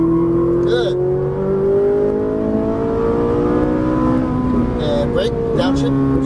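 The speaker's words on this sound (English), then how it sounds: "squeeze that throttle, accelerate straight ahead" A Ferrari 458 Italia accelerates out of a turn on a track in Las Vegas, a loud, close engine whose pitch climbs steadily as it pulls, with brief voices speaking over it.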